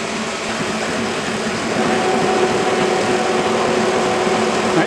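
A slab mill on a K&T metal shaper/cutter grinder turns slowly at 61 RPM, giving a steady, continuous mechanical drone and hum with a broad noisy wash that grows slightly louder partway through, with no talking.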